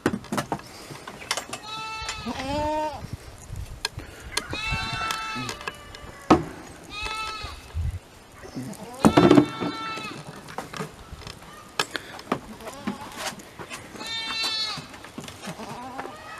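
Several horned goats bleating repeatedly on a farm, loud wavering calls close by with short pauses between them, while a person talks intermittently.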